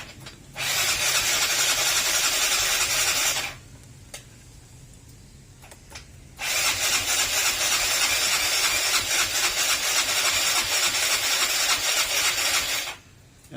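A Yamaha Mio Sporty scooter engine with a strong battery cranks on the electric starter in two long bursts of steady mechanical whirring, separated by a quiet pause, but never catches and runs.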